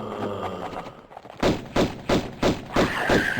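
Pistol fire in Tomb Raider 1 Remastered: a quiet stretch, then five loud, punchy shots at a regular, evenly spaced rhythm, each ringing briefly before the next.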